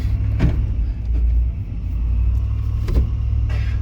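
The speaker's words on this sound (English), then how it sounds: "we take these trucks and drive up a hill" Off-road trucks climbing a hill rumble steadily at a moderate distance, with a few brief surges and knocks as the engines work, no talking.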